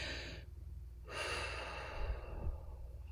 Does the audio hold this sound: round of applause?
no